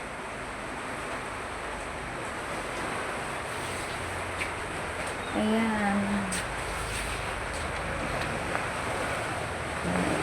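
Sea waves and rain in stormy weather heard through a window make a steady, broad rushing hiss with wind noise on the microphone, and a voice speaks briefly partway through.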